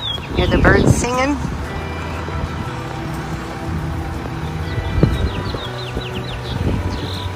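Several birds chirp and trill in short high bursts outdoors in Ajo, Arizona, under steady street noise and a passing vehicle, with occasional faint voices.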